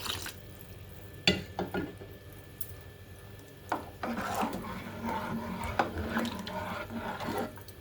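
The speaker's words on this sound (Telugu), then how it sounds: "కొద్దిగా వాటర్ పోసుకుందాం." Water poured into a pot of sambar with dal and salt gives a faint, soft splashing rush in the second half, after a few scattered clinks and knocks of utensils.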